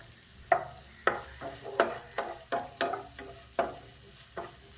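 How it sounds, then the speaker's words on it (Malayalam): Onions frying in coconut oil in a frying pan, with a utensil scraping and stirring in about ten separate strokes over a faint steady sizzle, close and clear with no voices. "അപ്പോൾ ഞാനൊരു ഫ്രൈ പാനിലോട്ട് ഉള്ളി ഇട്ടിട്ടുണ്ട്."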